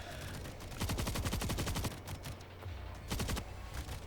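Light machine gun fire in World War Z, with two sustained automatic bursts of rapid, evenly spaced shots, the first about a second long and a shorter second burst after a pause, loud and close over a low background rumble.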